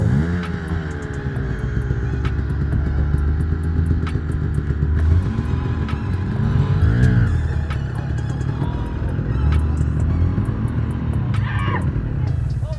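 Side-by-side off-road vehicle engine straining as it climbs the rocky Escalator trail at Moab, Utah; a steady, loud rumbling drone with rising and falling revs throughout, close by.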